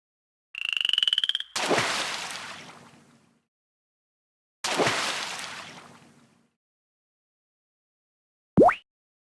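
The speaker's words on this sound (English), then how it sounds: "it was a frog's voice" Frog croak sound effects in a Nintendo DS picture book game, a tonal chirp followed by two long, rough croaking rasps with gaps between, ending in a short rising blip.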